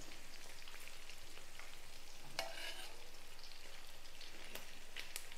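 Small fish fry in a pan with a soft, steady crackling sizzle throughout. A brief clatter of a utensil comes partway through. The sound is quiet and close, with no talking.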